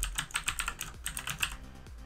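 Close, steady typing on a computer keyboard with quick clustered keystrokes over a low background hum, no voices.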